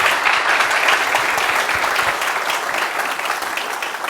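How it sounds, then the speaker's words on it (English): An audience applauds a speaker arriving to talk about Atari 800 series computers at a vintage computer festival, dense loud clapping that stays even throughout. "I hope to earn that applause."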